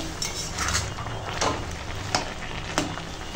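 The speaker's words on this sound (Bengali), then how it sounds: "দিয়ে আর ভালো করে মিশিয়ে নিচ্ছি।" Fish roe being mixed with salt in a hot frying pan: soft continuous sizzling under a run of scraping spatula strokes and a few sharp clinks of utensil on pan, close up and without talk.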